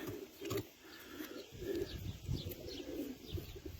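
Pigeons just unboxed from a delivery box, including a smoky-grey female, cooing in low rolling phrases that repeat through the stretch, close and continuous with faint chirps above.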